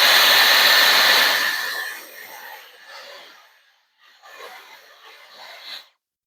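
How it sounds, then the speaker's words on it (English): Steady rushing blast of a hair dryer aimed at eyelash glue, loud at first, then dropping lower and wavering as it moves, briefly cutting out before resuming and stopping. "Then I'm going to blow dry."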